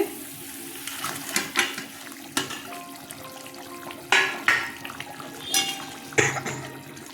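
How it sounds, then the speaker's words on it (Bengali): Fish pieces slipped one by one into bubbling dhaniya bata curry gravy, making several wet splashes and plops at uneven intervals over a low simmering background. "ঝোলটা ফুটে গেছে দেখুন মাছগুলো ছেড়ে দিচ্ছি"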